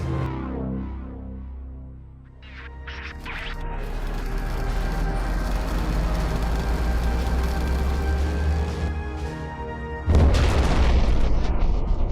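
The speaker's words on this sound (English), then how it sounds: "After we detonated our bomb and destroyed the Phasmid homeworld" A bomb detonates and destroys the Phasmid homeworld in the video game Space Crew: a deep, rumbling boom that swells into a long roaring blast, then a second sharp explosive burst near the end, loud and with no speech.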